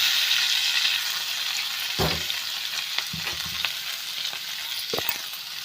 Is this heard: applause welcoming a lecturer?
no